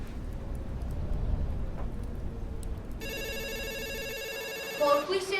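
A telephone rings in a cozy Christmas home scene, a bright electronic trill beginning partway through over a low background murmur, continuing steadily and loud until the end.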